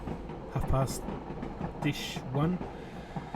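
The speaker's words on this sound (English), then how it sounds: "There's our friend the train. Right on schedule." A train passes by a house, a low steady rumble and rattle with brief bright squeals, fairly faint and distant, under someone talking.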